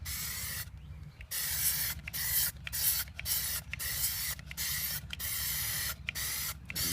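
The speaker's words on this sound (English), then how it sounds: "So I'm going to start spraying." An aerosol can sprays rubber coating onto a Porsche 991 wheel, hissing in repeated bursts, about nine sprays of roughly half a second to a second each, separated by brief pauses, close by.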